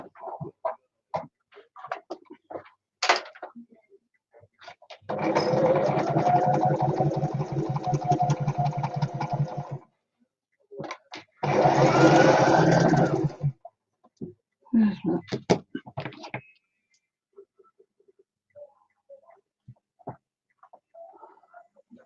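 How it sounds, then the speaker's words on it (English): A sewing machine stitching a craft item, running in two sustained whirring bursts of several seconds each between clicks and handling noises, close by, with a person talking around the stitching. "I'm going to sew this."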